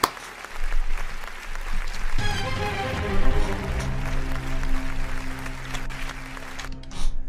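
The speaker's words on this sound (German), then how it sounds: "Da kann man mal klatschen für." An audience claps on a Wer wird Millionär quiz game show, a dense burst of applause that swells and holds steady with a musical sting beneath it before cutting off.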